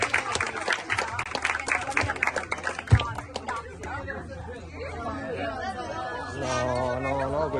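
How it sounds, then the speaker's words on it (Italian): Audience applause for the staff at a laser show: a burst of loud clapping mixed with crowd chatter and voices, fading into murmuring and talk with music-like tones toward the end. "il nostro staff vuole un applauso di cuore"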